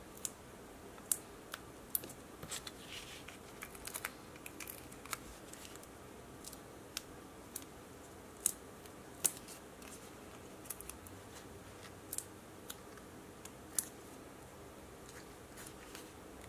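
Scissors trim small pieces of craft material, making quiet, sparse snips and clicks scattered over a low, faint background. The sounds are close, with no talking.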